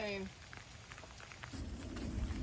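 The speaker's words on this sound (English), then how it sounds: "Still raining," Steady rain falling in a Florida park, a soft continuous hiss of drops on surfaces near a covered picnic table, with brief other sounds at the start.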